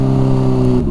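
A 2012 Honda CBR600RR sport bike engine hums loudly up close in a steady, droning tone, holding pitch for under a second before dipping briefly at the end.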